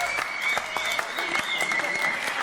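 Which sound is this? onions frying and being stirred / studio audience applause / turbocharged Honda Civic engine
studio audience applause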